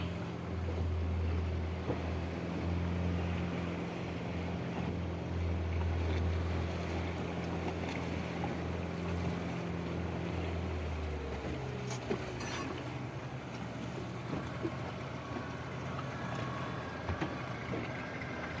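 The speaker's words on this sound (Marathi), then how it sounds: "आता आमच्यावर अजून एक बोट इथे आलेली आहे मराठा आरमार" Boat engine drones low and steady near the sea off Vijaydurg fort, with wind buffeting the microphone and waves washing throughout; the hum shifts partway as the vessel passes.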